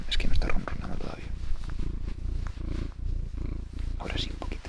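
A cat purring outdoors close to the microphone, a soft rhythmic rumbling pulse under quiet whispered talk, swelling and easing with each breath.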